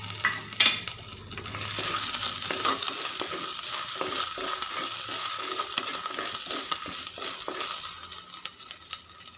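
Finely chopped green chillies sautéed in a pan for a prawn roast, giving a dense, steady sizzle with the scrape and rustle of stirring throughout and a few louder clinks near the start.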